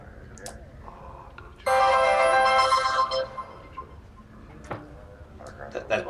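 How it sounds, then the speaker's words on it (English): A phone ringtone chimes loudly for about a second and a half, a bright melodic burst rising over a game's ambient background, with speech around it. "That was my phone."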